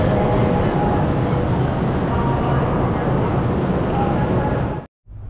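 Inside a high-speed TGV train bound for Xi'an, a steady loud rumble and rushing roar fills the cabin, continuous throughout before briefly dropping out near the end.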